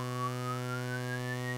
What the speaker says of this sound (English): And that's the 1031 at full resonance.